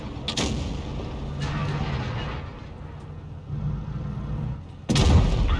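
Tank cannon fire in the World of Tanks Blitz video game: a sharp booming shot early on, a low rumbling battle bed in between, and a second loud, heavy blast near the end.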